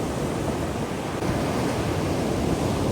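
Sea waves wash steadily onto the shore with a broad, continuous rushing roar, near and fairly loud, with wind buffeting the microphone and no voices.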